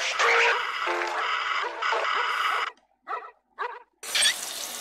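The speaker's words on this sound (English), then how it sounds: "That dog." A dog barks in the video game Parasite Eve 2: a loud, sustained run of harsh barking, then two short separate yelps after a brief silence, and a final burst of noise.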